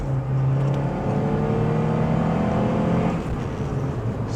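A Saab 9-3 engine hums and rises in pitch after a downshift, a steady loud drone inside the car that eases off near the end, with no speech.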